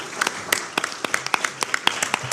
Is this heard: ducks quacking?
no